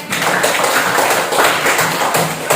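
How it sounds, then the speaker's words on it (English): A room of classroom students claps steadily and fairly loud for a classmate, a dense, continuous patter of hands with no talk over it. "Give applause to Palen."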